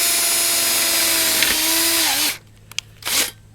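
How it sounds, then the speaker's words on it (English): A power drill used as a driver sinks metal screws with rubber washers into a goat and sheep loafing shed frame, its motor whining loudly and then winding down before two short bursts. "I'm just using my drill as a driver"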